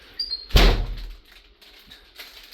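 A single heavy door slam booms out, followed by a short low rumble, then quiet room tone with faint shuffling.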